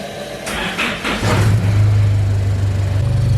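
A Dmax engine idles through a new exhaust built partly from a recycled 180SX exhaust, a deep, steady burbling rumble, after a few brief revs near the start.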